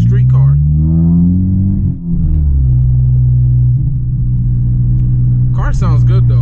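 A tuned car's engine pulling under load while driving, a deep steady drone that rises then holds, with people talking over it at the start and end.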